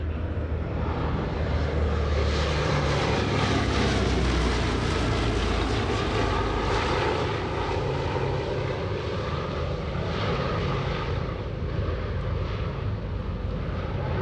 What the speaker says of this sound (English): Nice photo pass approaching the B-17